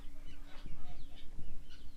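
Chickens cluck softly nearby in short, scattered calls over a low background hum.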